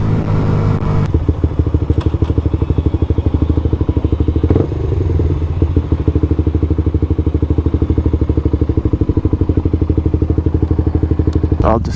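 A Yamaha motorcycle in a prop hunt video game runs with a steady, loud engine drone that pulses rhythmically throughout, briefly shifting around the start and middle, close and continuous.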